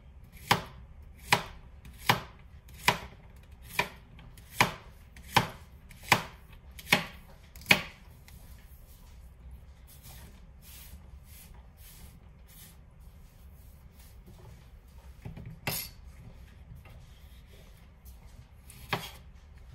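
Nakiri knife chopping sticky okra on a board, about ten crisp evenly spaced chops at first, then a pause and a few scattered softer cuts, close and fairly quiet with no talking.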